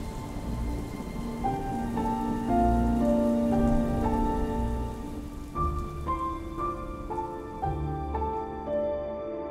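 Rain picks up again in an audio-drama sound effect, a steady patter that builds in strength under a sustained tonal music bed.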